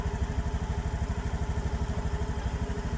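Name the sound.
Honda Beat Eco motorcycle engine idling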